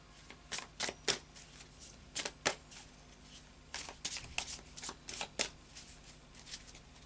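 Tarot cards being shuffled by hand at a reading table, giving repeated crisp riffling bursts in quick uneven clusters, close and fairly quiet, with no talk over them.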